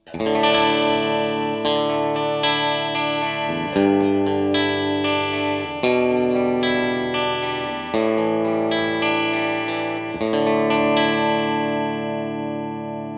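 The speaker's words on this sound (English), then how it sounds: "This will be the bright mode on the tone switch." An electric guitar runs through an Empress Nebulus chorus-flanger pedal in bright tone mode, bright and shimmering, strumming sustained chords that swirl and ring out, loud and alone.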